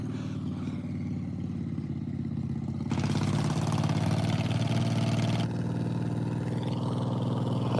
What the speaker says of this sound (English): A John Deere 112, that's awesome.